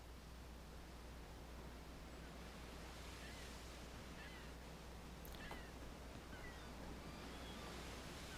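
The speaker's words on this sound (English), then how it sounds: "See a lot of rocks along the sides here clashing against the waves." Steady wash of ocean surf against rocks in the Second Life virtual world, a constant soft roar of waves with faint distant high chirps, quiet and continuous without speech.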